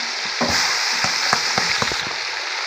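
Garlic and salt frying in a pan, a loud close sizzle with repeated stirring clicks and scrapes against the pan.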